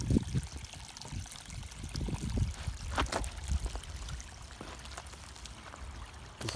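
A small creek flows into a farm pond in spring, a soft steady trickle and gurgle of running water with a few brief splashes and bumps, fairly quiet and close.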